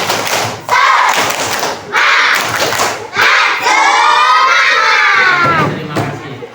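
Schoolchildren in an Indonesian math classroom perform a rhythmic spirit clap, loud group claps and thumps in bursts alternating with a shouted, chanted cheer from the whole class.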